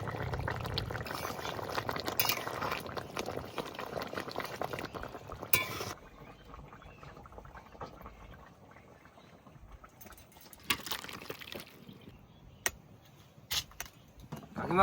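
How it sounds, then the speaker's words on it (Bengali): Mustard oil being poured into finished mustard pabda fish curry in a pan, with bubbling and stirring up front, then quieter simmering and a few utensil clinks near the end. "এবার একটু সর্ষের তেল দিয়ে নামিয়ে নেবো"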